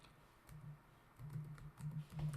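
Keys tapped on a computer keyboard, a short run of soft, close clicks and presses arriving in small bursts, with no talking.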